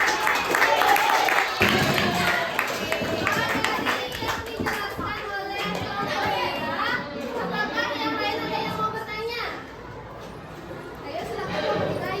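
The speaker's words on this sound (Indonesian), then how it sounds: "Tepuk tangan buat kelompok 3." A classroom of primary school children claps and cheers for a group after a science presentation, with lively chatter and voices throughout the applause.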